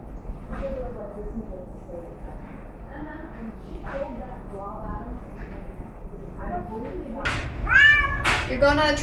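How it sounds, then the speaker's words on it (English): A pet cat meows several times near the end, loud and close, after a stretch of people talking quietly in a home where kitties are being gathered for a trip. "I think he'd be the perfect cuddly cat."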